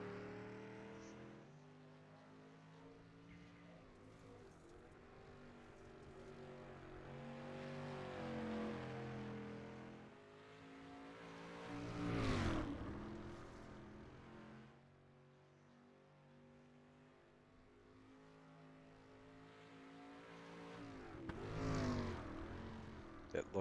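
Race car engine in a racing video game, a steady droning whine that climbs and drops through gear changes, with two louder surges of revving as the car accelerates, and no talk over it.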